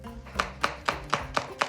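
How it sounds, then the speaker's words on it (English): Knife chopping a big red chilli on a board: six crisp, evenly spaced cuts in a steady rhythm, close and clear with no talking. "We're just going to slice that up."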